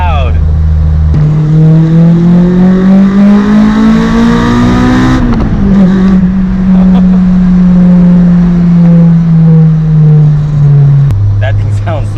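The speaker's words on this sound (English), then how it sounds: "the crossover to VTEC sounds so much better." A Honda S2000 with a cold air intake and exhaust silencers revs loudly up through its VTEC crossover, pitch climbing steadily, then dropping briefly and settling into a long held high rev before falling back.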